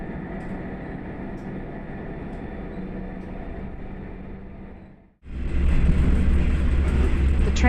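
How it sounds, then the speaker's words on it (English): A local train pulls away from Kushigahama Station, an unmanned stop on Japan's Gantoku Line, bound for Tokuyama. A steady rumble of wheels and motor is followed by a sudden shift into a louder, closer roar with low droning hum. "The train departs from Kushigahama Station and heads towards Tokuyama Station, its final destination."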